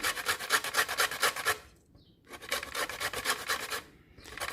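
Quick, rhythmic rasping strokes of lemon zest being grated up close, in two bursts separated by a short pause.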